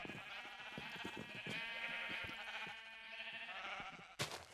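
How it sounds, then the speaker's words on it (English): Sheep bleat repeatedly in the video game Minecraft, several overlapping wavering calls close by with soft clicking steps, ending in a brief sharp burst. "those sheep are noisy the moment you get close to them"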